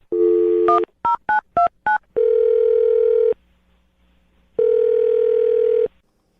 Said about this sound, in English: I'm dialing his phone number right now.